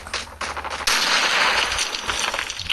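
PKM machine gun firing in Call of Duty Mobile: a loud, dense burst of automatic gunfire that starts after a few shorter shots and continues rapidly to the end.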